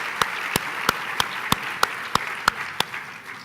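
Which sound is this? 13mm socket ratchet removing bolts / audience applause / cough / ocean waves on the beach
audience applause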